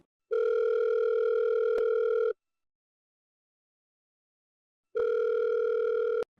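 A telephone line tone sounds while a call is placed, in two steady electronic bursts of about two seconds each separated by a long silent gap, clean and alone.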